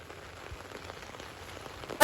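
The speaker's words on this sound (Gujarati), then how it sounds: "અત્યારે તો પાછો અંધરાધાર વરસાદ પડવા માંડ્યો છે" Heavy downpour over a village, a steady close wash of rain spattering on surfaces throughout, with a sudden louder burst of noise right at the end.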